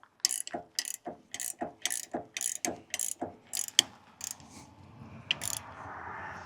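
A ratchet wrench, 17 mm, clicks in a steady run of about a dozen sharp, close ticks while loosening a PTO adjustment bolt on a tractor, followed by a softer hiss of handling.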